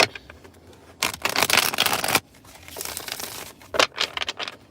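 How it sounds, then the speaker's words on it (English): Several quick crackling riffles of cards being shuffled close by, in short bursts separated by brief pauses. "I'm gonna shuffle these cards up"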